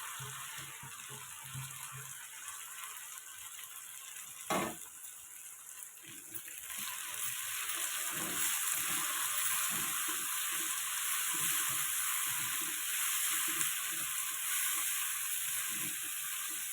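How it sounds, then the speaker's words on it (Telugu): Chopped tomatoes dropped into a hot frying pan while cooking dhaba-style palak paneer, a sharp splash followed by a steady, swelling sizzle that continues with light stirring scrapes, close and alone. "ఓకే అండి, ఇప్పుడు మనం టమాటో వేసుకుందాము."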